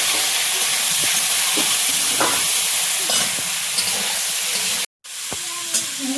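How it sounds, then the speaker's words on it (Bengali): Taro stems frying in hot oil with nigella seeds, chopped onion, garlic and green chilli, a continuous close sizzle and hiss broken by stirring scrapes and a brief pause near the end. "ডাঁটাটা একটু ভাজবো, তারপরে আলু দেবো।"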